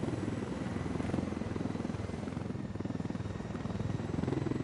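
Helicopter in Ghost Recon Wildlands, a missile-armed gunship: a steady, loud rotor thrum with rhythmic blade chop and engine whine that runs unbroken throughout.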